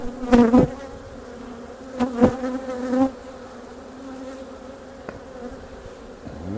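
A steady drone of honey bees buzzing in a hive, close and continuous, swelling in louder bursts near the start and again around the middle before settling to a lower hum.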